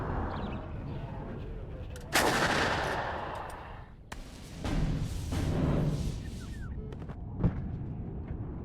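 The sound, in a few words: artillery fire in video game WARNO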